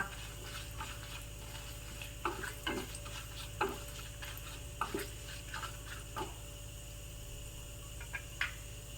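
Mustard seeds, dry chili and asafoetida temper in coconut oil as a faint, quiet sizzle, with scattered sharp pops and stirring clicks over a low background hum.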